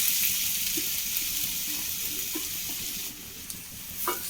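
Grated coconut fries in hot ghee in a pan on a Kerala home stove, a continuous soft sizzle with faint scraping and stirring clicks, close by and alone.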